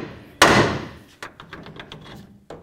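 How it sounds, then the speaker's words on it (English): A hammer strikes the steering knuckle of a 2006–2010 Dodge RAM to free the tie rod end: one heavy ringing metallic bang, then a second blow followed by a string of lighter rapid taps and a final knock. "Now let's give the knuckle a couple loving bonks until this breaks free."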